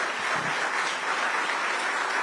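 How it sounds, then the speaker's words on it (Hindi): A studio audience at a televised news forum bursts into loud, dense applause, many hands clapping together continuously and evenly for the whole moment. "तो इनके लिए जरा जोरदार ताली बजाइए"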